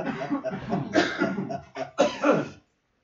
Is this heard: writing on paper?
no